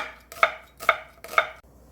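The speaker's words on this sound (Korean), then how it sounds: "양파 작은 거 한 개 썰어줄게요." A kitchen knife slices a small onion on a cutting board for doenjang jjigae. Three crisp, evenly spaced chops sound close and clear, with no other sound around them.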